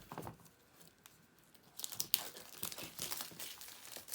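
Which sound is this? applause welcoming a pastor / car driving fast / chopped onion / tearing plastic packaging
tearing plastic packaging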